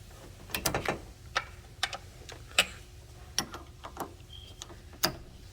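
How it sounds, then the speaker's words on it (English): A ratchet works loose the throttle body bolts on a 4.0L V6 Toyota Tacoma, giving sparse, close metallic clicks and short ratcheting bursts spread irregularly across the span, with no talk. "we're gonna go ahead and unbolt the throttle body"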